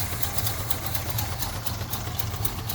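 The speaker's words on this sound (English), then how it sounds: "there's a misfire right there" An engine with a spark misfire runs at a steady idle, giving a faint, uneven pulsing beat with no talk over it.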